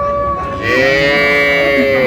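A single long, loud cow moo at a cattle market in Dinajpur, Bangladesh, steady and close, rising slightly before fading.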